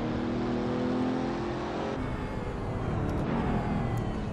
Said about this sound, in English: you get a lot of whine from the turbos and from the gearbox as well